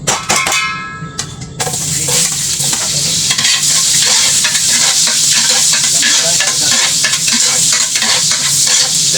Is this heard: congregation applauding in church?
no